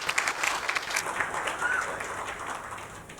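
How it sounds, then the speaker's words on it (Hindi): Crowd applause rises at a global conference on SDG 16+ and civic spaces, a short burst of clapping that thins out over a few seconds. "आप लोग उनके लिए ताली बजाइए एक बार"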